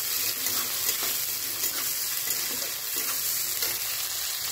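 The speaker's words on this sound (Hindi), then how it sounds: "प्याज, और इसको भूजना है" Onions fry in a pan with a constant, close sizzling hiss and light crackle, steady in level for the whole stretch with no talking.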